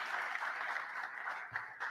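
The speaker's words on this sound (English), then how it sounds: "A round of applause, please, as they join me on stage." A citizen's assembly audience applauds as panelists join the stage, a continuous wash of clapping at moderate distance that holds steady for the whole stretch.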